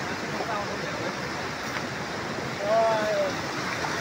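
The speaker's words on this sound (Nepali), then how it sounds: "खोला चाहिँ बवाल छ ठुलो छ होइन।" A big, swollen river rushes past nearby, giving a steady, broad roar of fast water that fills the whole clip without a break.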